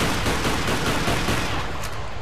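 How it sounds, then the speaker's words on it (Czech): Heavy gunfire and a close grenade blast fill the space at the player's feet in the video game Arctic Combat, loud, dense and continuous for the whole moment, with no voices over it. "Hodil jsem si pod nohy granát."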